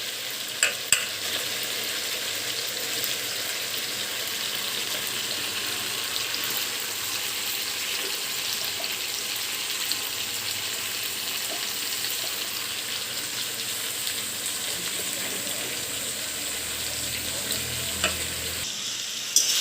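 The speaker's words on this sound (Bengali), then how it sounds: "ইঁচড়টা দিয়ে দিয়েছি, আর এবার মশলাটার সাথে ভালো করে কষিয়ে নেব।" Boiled jackfruit stir-fried into a cooked spice masala in oil, a dense, even frying hiss with faint stirring rustles throughout, close up and without speech, ending in a brief clatter.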